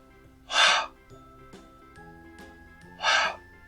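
A voice makes two short, breathy exhales imitating the letter H sound, each a sharp burst of air about two and a half seconds apart, close and clear over soft background music.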